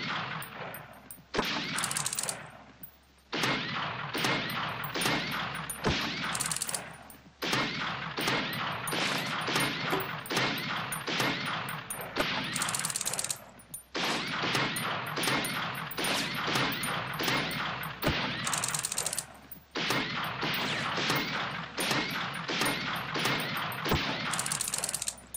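Rapid hip-fired gunshots in the VR shooting game Dynamic Shooting VR crack out in fast, loud repeated bursts, nearly continuous with brief gaps, with no talking.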